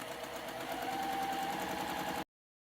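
A sewing machine stitches a quilt block's short edge with a steady, close, continuous motor whir that runs about two seconds and then stops abruptly, with no talking.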